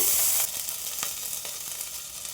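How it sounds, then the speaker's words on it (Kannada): Butter and oil for a chana masala tempering give a loud sizzle at first, then settle into steady frying crackle with a few sharp pops. "ಈಗ ಚೆನ್ನ ಮಸಾಲೆಗೆ ಒಗ್ಗರಣೆ ಹಾಕ್ಕೊತಾ ಇದ್ದೀನಿ. ಒಂದು ಅರ್ಧ ಸ್ಪೂನ್ ಬೆಣ್ಣೆ,"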